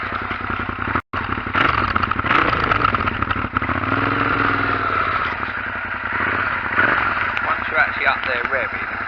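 A motorcycle fitted with a Delkevic exhaust ticks over at a steady, even idle, its low rumble running continuously while a voice talks over it.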